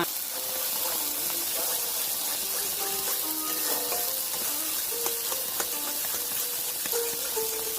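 Pointed gourd paste with salt and turmeric fries in a pan, a dense, even sizzle running throughout with frequent light clinks and scrapes from stirring.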